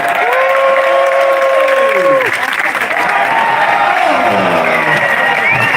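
A convention panel audience cheers and applauds loudly and continuously, with whoops and shouts rising over a dense wash of clapping, while an amplified voice carries through the crowd noise.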